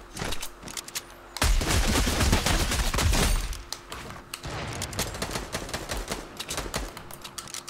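An automatic sniper rifle fires in Fortnite at Tilted Towers, a loud, rapid, sustained volley of sharp cracking shots with brief pauses between bursts, close and dominant.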